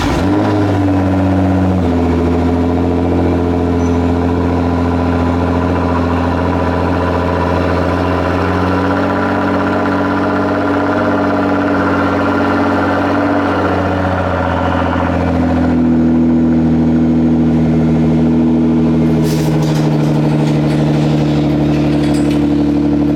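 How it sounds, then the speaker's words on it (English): The engine of a Nissan 240SX (S14) with a faulty TPS sensor idles close and loud, a steady low rumble that settles after a brief rise at the start and shifts slightly in pitch later on, with no talking. "I'll show you guys right now the idle on the 240SX. I will show you a cold start on the GTR"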